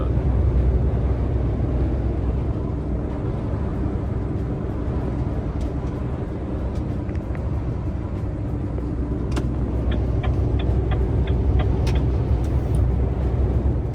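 A truck's steady engine and road rumble rolls on continuously while driving toward Bordeaux, with a few faint clicks and light ticking sounds appearing near the end.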